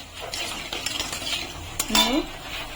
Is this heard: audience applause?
no